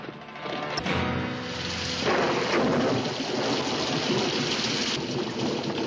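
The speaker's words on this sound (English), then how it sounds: "We can't go much further in this rain." Heavy, steady rain pours down continuously, a dense hiss with deep rumbling underneath, like rain during a thunderstorm.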